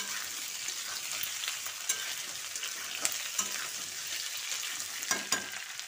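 Potatoes with slit green chillies sizzle in hot oil while being stirred, a steady frying hiss broken by occasional sharp clicks of the spatula against the pan, close and fairly quiet.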